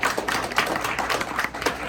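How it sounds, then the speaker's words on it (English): An audience at a public forum applauds its panelists, a dense, continuous patter of many hands clapping close by, steady for the whole stretch. "join me in a round of applause for our panelists"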